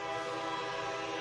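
A sustained train horn played as a sound effect during a football reaction livestream, one long steady multi-tone blast held throughout, fairly quiet and alone with no talking.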